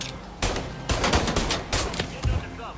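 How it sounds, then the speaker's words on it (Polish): Repeated gunfire from Mafia III, several loud close bursts and single shots in an irregular volley, with faint voices in the background. "Z czego on strzela?"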